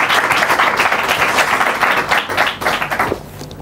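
An audience claps and cheers continuously and loudly through a comedy talk show segment, with a jingle likely buried in the dense applause.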